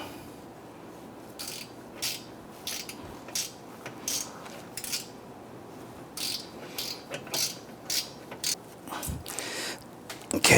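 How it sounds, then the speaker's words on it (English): A ratchet snugging down a bolt on a 2011–2021 Jeep Grand Cherokee 3.6L V6 during catalytic converter replacement, giving a series of short, fairly close clicking bursts in irregular runs with quiet pauses between. "I just switch over to my ratchet to go ahead and snug that one down"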